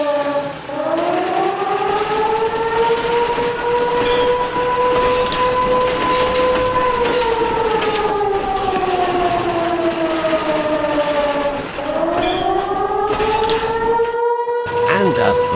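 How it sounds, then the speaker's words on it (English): A train pulls out of a station, its loud steady whistle-like tone rising and falling across the whole stretch, with a brief dip near the start and a break near the end, over rumbling movement. "The guard blew his whistle and Bear wasted no time and started pull his train out of the station."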